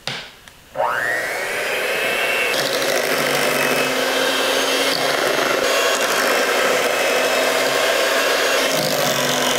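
Electric mixer whirring steadily as it whips mascarpone cheese cream for a strawberry tiramisu, a loud continuous motor drone starting after a brief quiet moment and running unbroken to the end.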